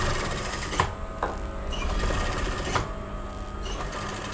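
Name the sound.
sewing machine stitching over paper fusing for suit neckline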